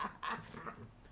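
A dog indoors in a room makes brief whimpering and grumbling noises, soft and close, in a short uneven burst.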